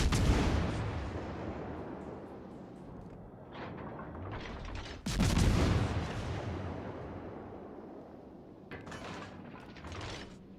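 Battleship main-gun salvos in World of Warships: Legends, fired in a fight with an Alabama: heavy booming blasts hit at the start, midway and near the end, each trailing off into a long rumbling decay. No one speaks.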